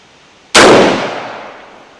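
A single loud rifle shot from a Yankee FAL fired at 50 yards, a sharp close crack followed by a long decaying echo.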